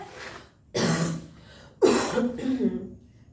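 Two short, harsh coughs, close and fairly loud, separated by about a second with a throaty rasp trailing the second.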